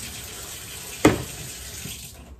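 Tap water runs steadily into a sink while fish is washed out in a home kitchen, a close, even hiss with one brief splash in the middle, and no talking.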